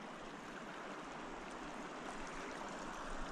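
A mountain river runs past a ladder leading down into the water, making a constant, even rush of flowing water with no voices.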